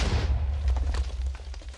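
An explosion in a video game rumbles with heavy, sustained low-end energy, with crackling bursts and debris pops scattered over about two seconds. The sound is loud and close, with no talking.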